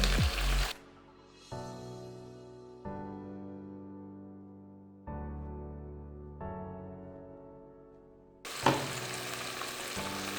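Chicken sizzles in a karahi pan, loudest at the beginning and end, with steady tonal sounds filling the quieter middle stretch.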